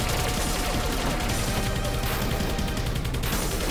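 A ray gun fires repeatedly in the space game Fission Superstar X, a dense, loud, unbroken barrage of rapid synthetic blasts and crunching impacts that fills the whole stretch.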